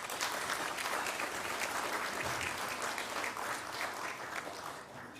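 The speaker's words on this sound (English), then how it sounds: "put your hands together and give yourself a round of applause" An audience at a city council community awards ceremony claps for itself, a sustained, full round of applause that holds steady and then eases off slightly at the close.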